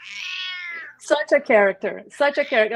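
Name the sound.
cat meowing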